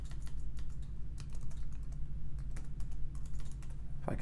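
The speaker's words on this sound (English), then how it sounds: "If I can type here." Steady, rapid typing on a computer keyboard fills the whole stretch, close and continuous, with clicks running together over a low background hum and no talking.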